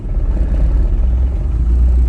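A VW Polo hatchback engine idles with the air conditioning switched on, giving a steady low, close rumble with a slightly uneven, wavering drone and no voices.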